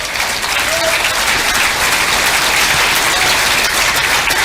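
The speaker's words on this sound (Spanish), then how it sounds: "los empresarios aplauden" Business people applauding as a dense, loud, sustained crowd applause, even and unbroken for several seconds with no speech over it.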